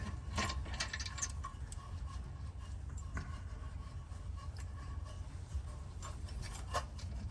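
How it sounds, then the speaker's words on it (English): Ratchet loosening the brake caliper bolts on a 2014 Kia Soul, faint intermittent clicking against a steady low background hum, close but quiet. "Go ahead and take the caliper bolts out."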